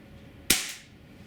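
A single sharp shot from an HK P30 4.5mm .177 CO2 pellet pistol, a loud close crack with a short fading tail and quiet surroundings before and after.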